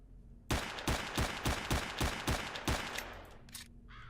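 Gunfire in the video game Stalker: a rapid burst of about eight loud, evenly spaced shots, followed by a few scattered quieter reports and fading echoes.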